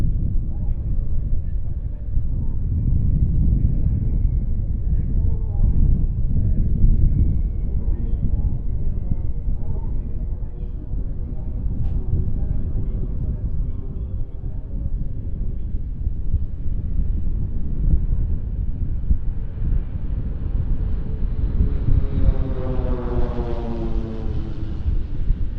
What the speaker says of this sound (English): watch for the 2 aircraft flying in line astern behind the leader as they are about to spread out to create a shape called Delta